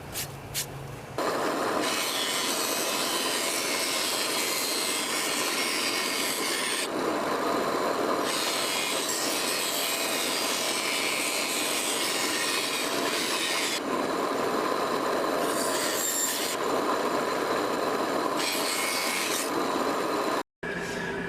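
A bandsaw rough-cuts a wooden handle profile for a vintage hatchet nail puller head, a steady rasping hiss running in long passes broken by brief pauses, close and loud with no talking.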